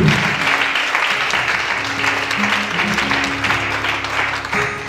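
A church congregation applauds for Jesus during a testimony service, with steady, dense clapping carrying on for several seconds and a faint voice beneath it.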